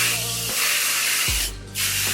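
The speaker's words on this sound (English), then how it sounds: "I'm going to take some more hairspray" A long steady hiss of an aerosol hairspray being sprayed close by, briefly stopping, then a second spray starting up.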